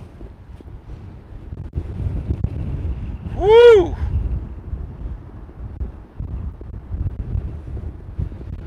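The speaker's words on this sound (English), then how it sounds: "it is windy as hell" Steady wind roars across the microphone in low rumbling gusts, with a short whooping shout from a voice partway through.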